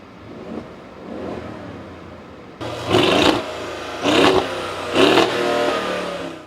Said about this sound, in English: this massive V8 biturbo that puts out 577 horsepower